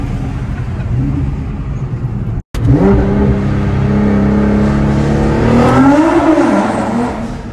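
A 700whp Alpha 7 R35 Nissan GT-R engine, loud and close, revs up after a brief cutout, its pitch sweeping up and down through sustained acceleration with a steady, throaty drone.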